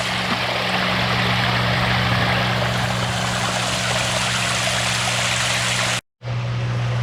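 Water from a DIY formal-style waterfall on a 4,000-gallon koi pond pours in a constant, dense rushing splash close by, with a low steady pump hum beneath and a brief dropout near the end.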